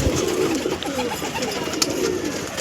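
Breeder pigeons, male and female, coo in a steady, close chorus of low, rolling calls that continue throughout.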